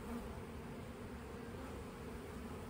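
Bees buzzing around a hive nest rimmed with pollen, a faint, steady, close hum that holds without a break.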